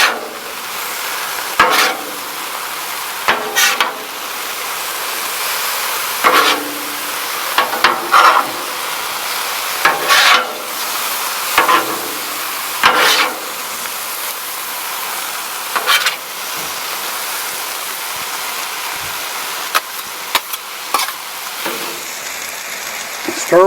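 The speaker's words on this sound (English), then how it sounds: "Stir fry noodles, y'all, on the Blackstone." Stir fry noodles sizzling on a Blackstone griddle, a constant crackling fry with repeated scraping spatula strokes as the noodles are tossed, close and loud, with occasional talk in the background.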